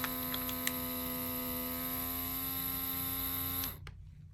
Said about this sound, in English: you turn it on and it starts vacuum sealing the item